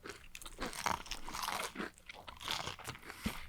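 Fried chicken being bitten and chewed, with a run of loud, close crunches and crackles repeating unevenly throughout.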